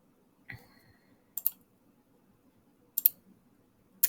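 A computer mouse gives a few sharp, separate clicks about a second or so apart, close and fairly quiet against near silence, with a soft tap near the start.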